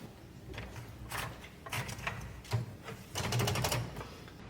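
An old mechanical typewriter clacks in quick bursts of key strikes, separated by short pauses, with the carriage shifting between runs. The sound is close and fairly quiet, and no clear bell ding stands out.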